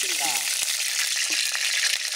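Oil frying in a hot wok (kadai), a steady bright sizzle filling the clip at close range, with a couple of brief clinks near the start.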